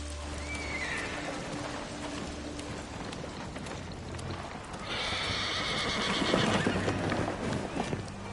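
A horse in Ghost of Tsushima whinnies and snorts close by, then its hooves clop along steadily over ambient outdoor noise, with someone talking briefly.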